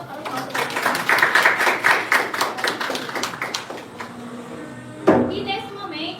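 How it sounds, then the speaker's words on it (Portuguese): Audience clapping indoors, a loose series of distinct claps that build and thin out, followed by a sharp knock and voices toward the end. "vamos dar uma salva de palmas para o nosso"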